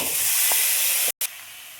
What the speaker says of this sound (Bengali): চিকেনটা দিয়ে দেবো।